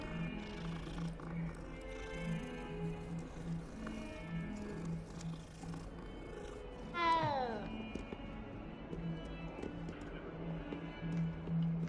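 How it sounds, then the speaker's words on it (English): A cat meows once in Hogwarts Legacy, a single clear falling meow partway through, set among steady game music and ambience. "What the cat got to say?"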